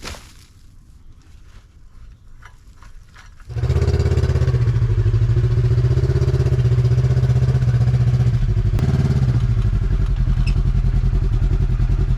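A Polaris utility vehicle's engine starts after a few seconds of quiet clatter, then idles loud and steady close by, with a brief break in its drone near the end, no talking.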